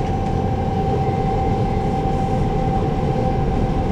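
Inside a Desiro HC BR 1462 regional train running as the RE14 from Saalfeld (Saale) to Nürnberg Hbf, a constant low rumble of the moving carriage carries a steady whining drive tone, loud and unbroken.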